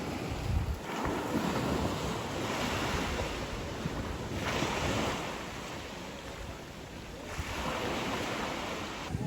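Ocean waves washing onto a beach in the Seychelles, a continuous surf roar that swells and recedes in slow surges, with wind buffeting the microphone throughout.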